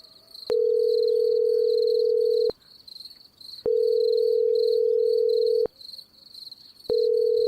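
A phone call to a doctor rings out unanswered, with three long steady ringback tones in a slow regular pattern and a faint background hum.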